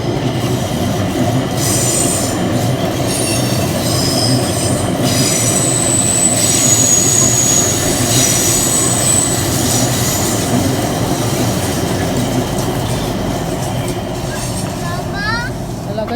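A train runs along the rails in Stockholm with a loud, continuous rumble and roar, faint metallic squeals rising and fading over it.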